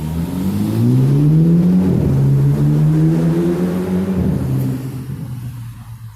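Cars race up a street outside, their engines revving hard in a loud, rising and falling drone that holds for several seconds before fading as they move off.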